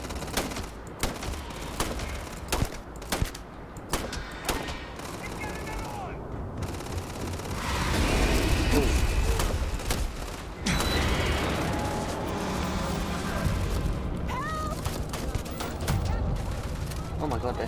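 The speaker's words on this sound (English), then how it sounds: "Oh my god, they're shooting me." Gunfire in Starfield crackles in rapid bursts and scattered single shots, near and loud, over a busy game mix with people talking and shouting throughout.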